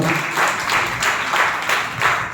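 A congregation at a Sunday church service claps in a loose, regular rhythm, each beat a soft burst of many hands repeating about three times a second, fairly loud and close.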